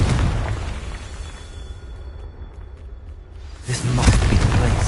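A Confringo fire spell explodes in Hogwarts Legacy on PS5, a broad rumbling blast that hangs in the opening seconds, fades to a quieter stretch, then erupts again as a second loud, booming burst toward the end.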